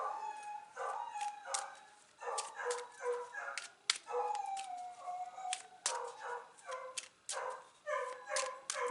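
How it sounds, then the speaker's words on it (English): A distressed rescue dog howls and whimpers in long, wavering cries, rising and falling repeatedly with short yips between, close and fairly loud throughout. "And my dog is howling because she doesn't like it."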